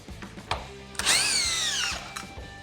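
DeWalt 18V brushless hammer drill set to speed 3, driving coach screws: a few short taps and bursts, then a loud rising whine that holds for about a second and winds down, with faint clicks after.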